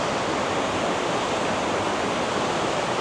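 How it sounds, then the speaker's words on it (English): Waterfall in a snowy gorge near Hood River, Oregon, heard as a constant, loud, broadband roar of falling water with no breaks or other sounds. "This is a waterfall."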